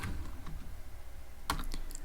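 Close computer keyboard typing during Python coding, a short run of soft keystrokes followed by a brief cluster of sharper clicks.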